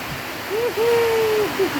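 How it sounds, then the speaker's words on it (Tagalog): Heavy typhoon rain pouring down in Pangasinan in a steady, dense hiss, with a voice speaking briefly over it. "Lakas na, lakas, lakas ng ulan."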